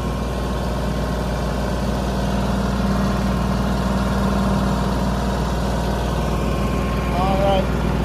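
A vehicle engine idles and rolls slowly over a patch of grass. The low, steady rumble stays loud and close throughout, with a brief squeak near the end.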